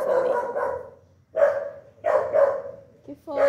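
A household dog barks close and loud, with several separate barks and short pauses between them.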